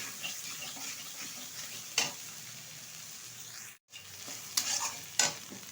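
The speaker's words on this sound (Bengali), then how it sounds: "একটু নেড়ে চেড়ে নিচ্ছি।" A spoon stirs giant taro curry in a frying pan, scraping and clinking now and then over a steady low sizzle, close by, with a few sharper knocks and no speech.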